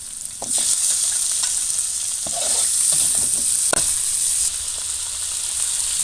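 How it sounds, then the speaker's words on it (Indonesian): Papaya flowers with tomato and palm sugar are stirred in a frying pan, a steady sizzle with scattered scraping clicks of the utensil, close and fairly loud throughout. "Ini sudah masuk bunga pepayanya, kita aduk-aduk."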